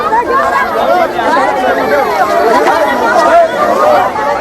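Outside a legislator's home at Budha Chauraha in Moradabad, poor people gathered for rations and cash make a loud, packed hubbub of overlapping voices, close and continuous from start to finish.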